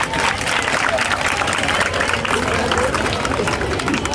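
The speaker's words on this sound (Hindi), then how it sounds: "तालियां बजती रहनी चाहिए।" A crowd applauding steadily with dense, continuous clapping throughout, loud and close, with some background voices mixed in.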